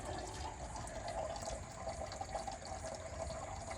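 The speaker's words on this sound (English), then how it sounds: "Oh my God, we do have water going down the pipe." Water from a cheap hydroponics system pump runs steadily down a pipe, a faint continuous trickling and gurgling flow heard alone at low level.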